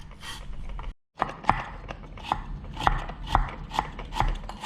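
A knife julienning carrots on a cutting board gives a quick series of sharp, evenly spaced chops, close and crisp, after a brief pause near the start, with no voices.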